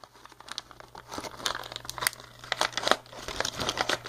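Paper and plastic of a fan mail package crinkle and tear in irregular bursts close by, a steady low hum underneath, with no talking.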